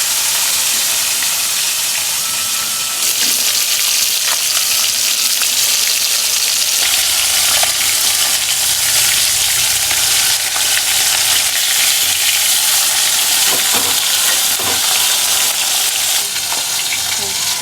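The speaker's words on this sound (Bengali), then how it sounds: "কড়াই তেল গরম হয়েছে, এবার মাছগুলোকে ভেজে নিতে হবে।" Fish frying in hot oil in a wok for chilli fish, a steady loud sizzle throughout with occasional scraping and stirring clicks, no voices.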